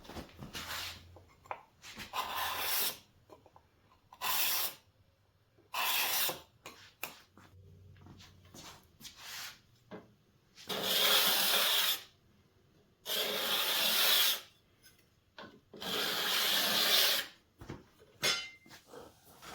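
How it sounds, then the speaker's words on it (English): A well-tuned curved cabinet scraper works a wooden surface in repeated strokes, a series of dry rasping scrapes separated by short pauses, close and fairly quiet. "I want to show you what a well-tuned curved cabinet scraper can do."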